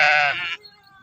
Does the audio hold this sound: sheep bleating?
yes